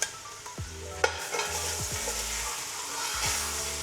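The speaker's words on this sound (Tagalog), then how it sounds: "Sutayin natin siya until mag-brown yung chicken. Now guys, lagay na natin yung ating ginger." Chicken with ginger being sautéed in a pan, a steady sizzle broken by a few sharp clinks and scrapes of a spatula stirring, close and moderately loud, with no talking.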